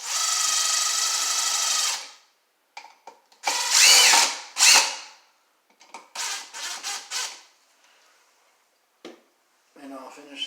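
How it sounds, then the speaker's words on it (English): A power screwdriver drives screws into an electrical outlet box while wiring a GFI outlet, with a loud sustained whirring burst followed by several shorter whirs and stops, close and alone. "So now we can screw this in."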